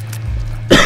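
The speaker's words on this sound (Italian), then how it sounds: "E scusate ancora la tosse." A single short, throaty cough bursts out near the end, close and fairly loud, after a stretch of low background hum with no talking.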